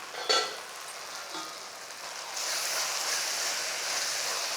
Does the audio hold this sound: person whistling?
no